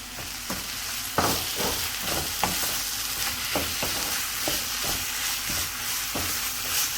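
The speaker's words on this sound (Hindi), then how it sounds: "अभी आपने तेज़ आंच ही रख के इसको इसी तरह से पकाना है।" Vegetables stir-frying over high heat for spring roll filling, a steady close sizzle with repeated scraping stir strokes every half second or so, no voices.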